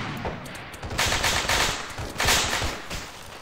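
Heavy machine gun fire pours down in the Arma 3 video game, rapid loud bursts of automatic shots coming in dense clustered volleys without pause.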